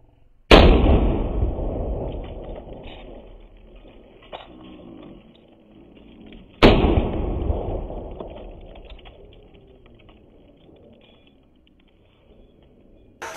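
Two loud gunshots at a down-range target, each a sharp crack with a long rolling echo fading over several seconds, spaced about six seconds apart outdoors.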